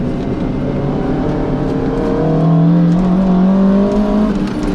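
A Toyota MR2 engine drones and climbs in pitch as the car pulls hard in second gear on a race track. The sound is loud and close, with steady rising harmonics and no speech.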